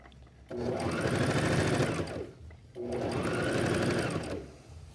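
Sewing machine stitching fabric for a Christmas stocking, two close, steady runs of rapid needle whirring separated by a brief pause.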